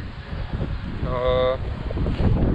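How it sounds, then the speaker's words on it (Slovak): Strong gusting wind buffets the microphone at a seaside spot near Wildwood, a rough low roar under a brief tonal horn-like blast. "A to ešte fúka, že? Fúka, stále fúka."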